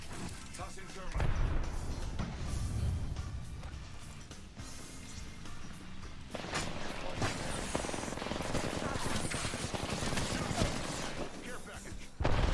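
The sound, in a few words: gunfire in a video game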